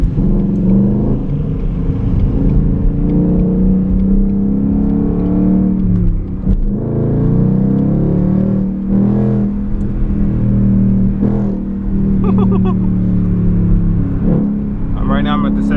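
A 2020 Ford Mustang 5.0 with a muffler delete accelerates in second gear at night, its steady loud engine drone rising and falling with throttle, with voices talking over it throughout.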